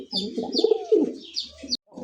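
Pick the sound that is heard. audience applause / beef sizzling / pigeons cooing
pigeons cooing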